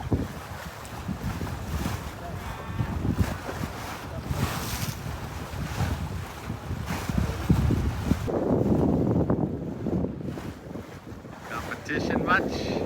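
Strong wind rushes and buffets the microphone aboard a sailboat off Nantucket, with water washing around the hull and faint voices now and then underneath.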